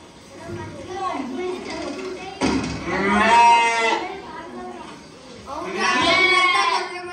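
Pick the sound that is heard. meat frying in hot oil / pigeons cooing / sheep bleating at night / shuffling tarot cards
sheep bleating at night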